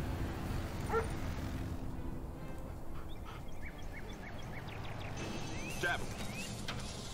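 Attack dogs in the video game C&C Red Alert 3: Uprising yip and bark in short scattered bursts amid battle noise and game voices.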